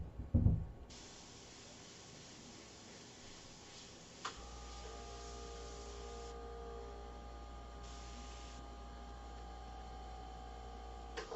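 An airbrush spraying paint onto an aluminum panel, a steady soft airy hiss that runs continuously for several seconds alongside a low compressor hum, with no talking.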